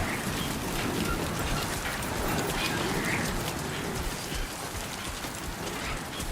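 Steady heavy rain in the video game Death Stranding 2, a dense continuous hiss of falling drops at an even loudness throughout, with no voices.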